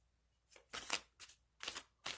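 Lost Tarot of Nostradamus cards being shuffled by hand, several crisp riffling bursts in an irregular rhythm, close and fairly quiet with short pauses between.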